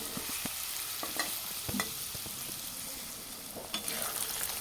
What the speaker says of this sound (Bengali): পনিরগুলো ভাজতে থাকি বেশি লাল করব না